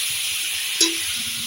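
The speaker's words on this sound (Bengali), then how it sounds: "চিকেনটা অল্প হালকা ভাজা হয়ে গেছে" Chicken pieces fry lightly in a pan, giving a steady bright sizzle and hiss with a brief stir or clink partway through, close and unbroken by voices.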